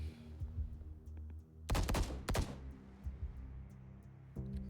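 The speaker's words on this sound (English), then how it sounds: "More gunshots." Two bursts of rapid gunfire ring out in the video game The Bookwalker: Thief of Tales over a low background hum, with a quieter shot near the end.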